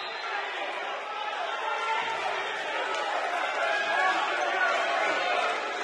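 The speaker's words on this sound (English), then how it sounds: "The entire crowd is hollering for goaltending." A college basketball crowd in an NAIA game between Tougaloo College and LSU Shreveport roars and hollers in a steady, dense wash of voices after a blocked shot.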